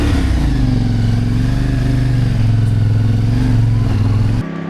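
A CFMoto 450NK motorcycle engine runs loud and close, holding a steady mid-pitched drone with slight rises in revs before cutting off abruptly near the end.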